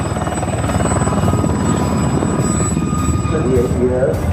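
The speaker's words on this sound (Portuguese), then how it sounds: "O helicóptero é o veículo voador mais versátil jamais inventado." A helicopter flies nearby with a steady, loud rotor and engine drone that holds throughout, while a voice talks over it.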